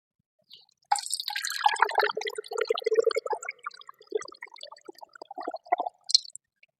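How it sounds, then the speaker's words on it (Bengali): Water splashing and gurgling into an empty plastic Thums Up bottle, a close, bubbly pour with intermittent drips and squishes. "তো এটা এখন আমি জল ভরবো, চলো।"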